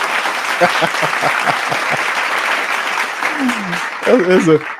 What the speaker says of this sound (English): I'm going to have to give the people a round of applause for that one.